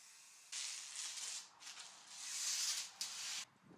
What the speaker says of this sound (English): when you apply the spray adhesive, it tends to get onto the edges as well